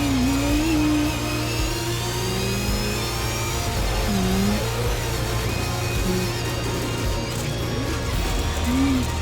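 A Ford Raptor T1+ rally car engine revs loudly and continuously, the pitch rising and falling with throttle blips over a heavy low rumble, heard from inside or close by.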